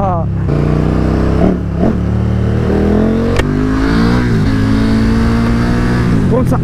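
KTM 1290 Super Duke R motorcycle accelerating hard, loud and close, its engine note rising through several gear changes with a steady roar; someone talks in French over it.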